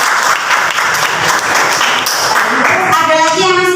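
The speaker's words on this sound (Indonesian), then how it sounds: "Tepuk tangan untuk Mas Bayu." Schoolchildren in a science classroom clap for a classmate, loud dense applause that continues steadily while a voice begins speaking near the end.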